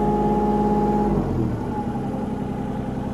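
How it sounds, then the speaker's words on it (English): A Kubota U35-4 mini excavator engine runs steadily nearby with a loud, low mechanical drone; the pitch shifts slightly after about a second as the engine settles, continuing without talk. "It is a Kubota U35-4."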